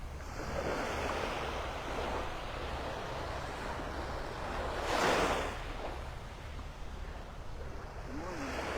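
Ocean surf rolls steadily onto the sand at Delnor-Wiggins State Park in North Naples, a broad continuous wash with one louder breaking wave midway, mixed with light wind noise on the microphone.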